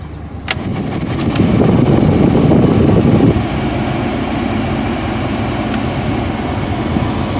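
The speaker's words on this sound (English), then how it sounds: "this is the only car I've ever owned that has ice cold air conditioning" A loud rush of blowing air swells for a few seconds, then eases to a steadier, quieter hum from a 2007 Ford F-150's air conditioning, with a few clicks.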